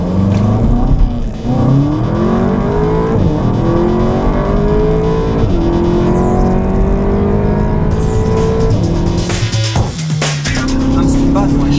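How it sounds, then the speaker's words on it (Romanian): A 280 hp SEAT Leon Cupra with a DSG gearbox accelerates hard, its engine revving up through repeated rising sweeps with brief dips at each gear change, loud and close throughout. "iar versiunea de 280 de cai cu DSG accelerează și sună cam așa"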